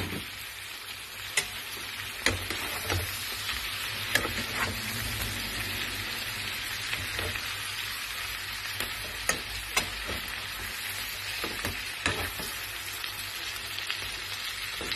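Shrimp and garlic fry in a pan with a splash of soy sauce, a continuous close hiss and sizzle with scattered pops and crackles and no talking.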